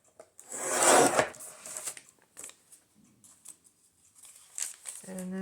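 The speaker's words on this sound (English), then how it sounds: "I'm going to cut this the same way. Cut off the hole since it's the same notebook paper." Scissors snip through notebook paper for a junk journal, with rustling and crinkling of the sheet and several short cuts, loud up close, while a person talks intermittently.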